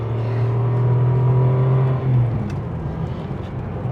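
A 2000 Ferrari 550 Maranello heard from inside the cabin pulls hard through the gears, with a loud, steady engine note that drops briefly at a shift before settling into a smoother cruise.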